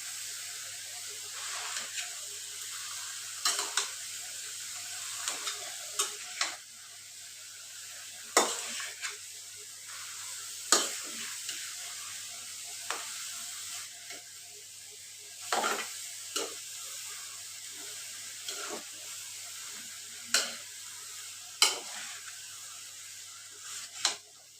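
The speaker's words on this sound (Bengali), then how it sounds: "একদম অল্প বাঁধাকপি দিচ্ছি, বেশি দিচ্ছি না। এটা আমি ভালো করে কষিয়ে নিচ্ছি।" Cabbage stir-fried with chicken bones in a pan makes a soft, steady sizzle, with a spatula scraping and clinking against the metal at irregular intervals throughout.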